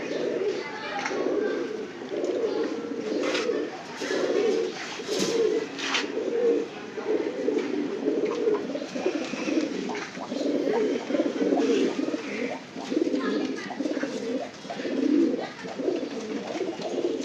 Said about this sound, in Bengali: খুব সুন্দর কবুতর, আমার পছন্দের কবুতর এগুলো